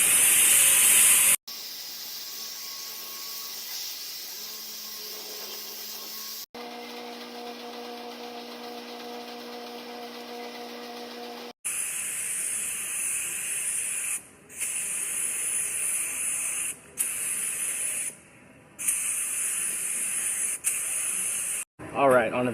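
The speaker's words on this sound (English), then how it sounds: "I have some etch primer here for any of the bare metal areas. I'm going to put that down" A spray gun lays etch primer onto bare metal in an auto body shop, giving steady loud hissing bursts that start and stop in several passes, with quieter stretches between.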